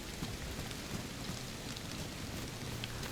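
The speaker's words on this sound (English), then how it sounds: "It's rainy, it's windy" Rain falls steadily with wind rushing through it in the DayZ video game, a constant dense wash of noise at moderate level.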